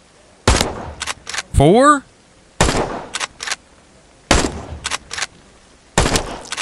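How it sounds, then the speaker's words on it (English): Gunshots ring out in a hunting video game. Several sharp, loud reports come in an uneven series, with a short spoken word between them. "Oh my gosh, I shot him through the trees."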